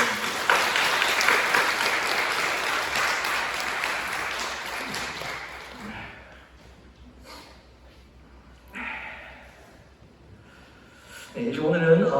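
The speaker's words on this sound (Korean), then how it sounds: "하나님께 영광의 박수 올려드리겠습니다" Church congregation at a youth service clapping together in a dense, loud burst of applause that fades after about six seconds, followed by scattered murmurs and a voice starting to speak near the end.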